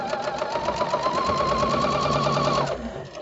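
Sewing machine stitching a quarter-inch seam across scrappy quilt strips, a fast, steady mechanical whirr with rapid regular needle clatter that stops abruptly near the end.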